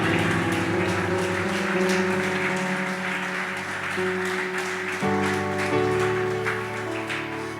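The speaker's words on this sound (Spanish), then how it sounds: "Yo le daría un fuerte aplauso al Señor." Church congregation applauding steadily, a broad clatter of many hands beneath sustained keyboard or organ chords that shift partway through.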